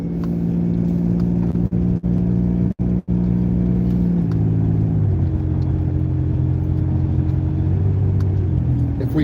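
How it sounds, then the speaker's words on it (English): A car accelerates out of a tight left-hand turn during a driving lesson, its engine a steady close rumble from inside the cabin that shifts pitch partway through as speed builds, with no talk over it. "And then you accelerate out."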